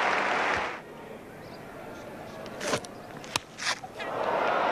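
A cricket crowd at a 1983/84 Pakistan versus Australia Test match applauds a batsman equalling a record, with loud applause at the start and end, a quieter stretch between, and commentary talk over it.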